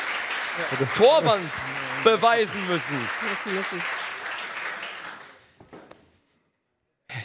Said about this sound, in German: Einen großen Applaus für unsere Gäste